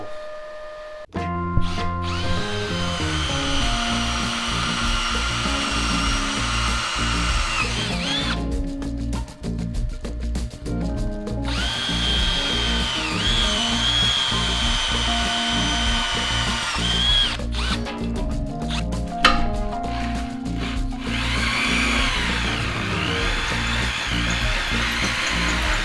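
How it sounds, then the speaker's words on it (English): A power drill bores holes through metal on a vehicle's front end during a fabrication job, whining steadily at high speed, with brief gaps where the trigger is released and the drilling starts again. "Alright, so I just finished getting them all drilled."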